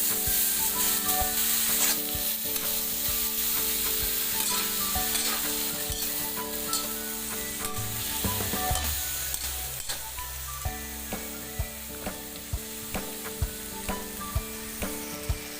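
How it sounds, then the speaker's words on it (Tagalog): String beans and squash sautéing in a hot pan, with a steady, dense sizzle and frying crackle throughout, occasional stirring scrapes, and sharper ticks toward the end; no talking. "Pinagsabay na natin yung sitaw at saka yung kalabasa sa paggisa natin."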